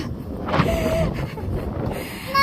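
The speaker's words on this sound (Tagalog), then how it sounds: "Lakas ng hangin, parang kaming madadala." Strong wind gusts among houses in the U.K. buffet the microphone in a steady rumbling roar, with brief whistling and rustling, no voices.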